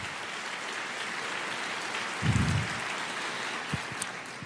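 Steady wash of applause from a church congregation, an even rain-like patter of many hands, with a brief low thump partway through.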